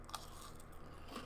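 Quiet crunching bites of Cheetos and Fruity Pebbles, a couple of brief crisp crunches close to the mic in an otherwise hushed moment.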